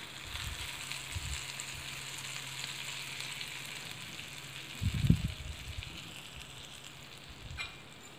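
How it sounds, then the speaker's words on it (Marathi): Hot tadka made with homemade chili powder is poured onto mixed dal, setting off one short, loud burst of sizzling midway through a steady, quiet background hiss. "आता मी हा तडका या डाळीवरती घालते."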